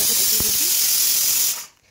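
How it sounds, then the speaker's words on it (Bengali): A pressure cooker cooking dal lets out a loud, steady steam hiss that runs for about one and a half seconds before cutting off abruptly into near silence. "এদিকে প্রেশার কুকারে ডালটা বসিয়ে দিয়ে বাঁধাকপি কেটে রেখেছিলাম"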